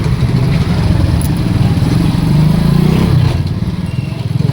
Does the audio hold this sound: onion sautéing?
no